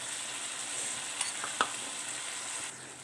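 Sweet and sour chicken stir-fry with tomato sauce hisses softly in a pan, with a couple of brief scraping stirs of a utensil breaking through the steady low sizzle.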